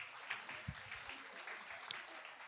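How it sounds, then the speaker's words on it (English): An audience at a rare disease event claps, giving soft, fairly distant applause with scattered louder claps, faint and steady across the moment. "Can you give yourself a round of applause?"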